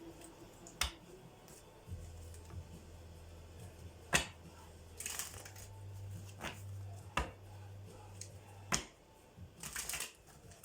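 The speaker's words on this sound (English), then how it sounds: "We make some room to shuffle." A deck of cards is riffled and shuffled several times in quick bursts, with soft clicks and taps over a low steady hum.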